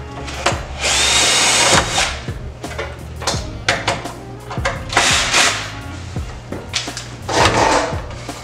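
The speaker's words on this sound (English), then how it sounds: "try to go under the table and put the screws underneath," Power drill driving screws up into a drive mount from beneath a table while installing an internal SCSI drive for an MPC 60, heard as several loud close bursts of whirring with short pauses and clatter between them.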